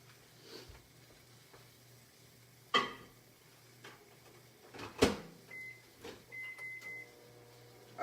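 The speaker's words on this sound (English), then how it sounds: "we're going to go ahead and put this in the microwave for 5 minutes" Microwave oven running while cooking cornbread in a rock crock, a low steady hum with a couple of sharp clunks and short electronic beeps near the end.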